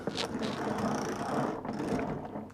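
A rapid mechanical ratcheting clatter runs continuously, the whir and clicks of a Verve automatic hose reel winding its hosepipe in, fairly loud and close.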